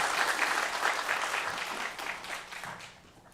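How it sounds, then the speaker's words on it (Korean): A church congregation applauds warmly in celebration during a Sunday morning worship service, a full burst of many hands clapping that gradually thins and fades toward the end. "우리 다시 한번 뜨겁게 박수로 축하해 주시겠습니다"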